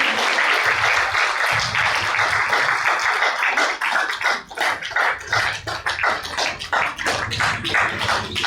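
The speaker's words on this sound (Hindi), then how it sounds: "जोरदार तालियां" Audience applauding at an awards and get-together ceremony, a dense, steady wash of many hands clapping that stays loud throughout, with a few sharper individual claps standing out near the end.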